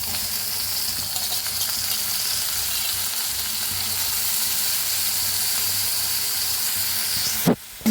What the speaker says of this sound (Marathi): भाजून घेऊया डाळीला बी